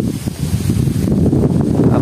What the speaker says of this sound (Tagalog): Malakas lang yung hangin mga sir.